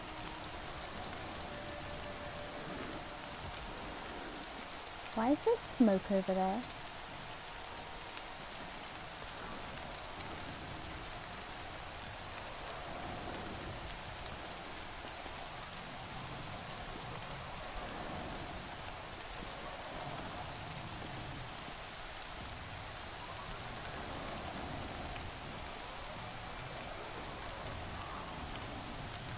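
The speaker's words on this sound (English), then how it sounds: "Come on, rain, stop." Steady rain falls continuously in the video game Horizon Zero Dawn, a soft even hiss throughout, with a brief voice speaking near the start.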